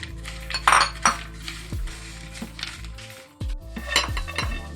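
Metal utensils clink and scrape against a pan while almonds are roasted in a spoonful of ghee, with several sharp clatters and a steady low hum in the background. Nobody speaks.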